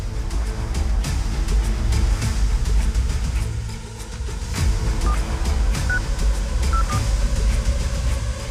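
A short series of telephone dialing beeps cuts through a loud, steady rumble of traffic or rail noise in a busy setting, the tones faint and spaced unevenly.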